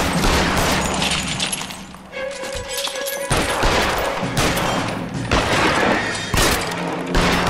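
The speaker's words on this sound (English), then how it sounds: "it's a lot of gunfire" Dense bursts of gunfire in the video game L.A. Noire crackle and thump almost continuously, loud and close, with heavy impacts and a brief lull partway through.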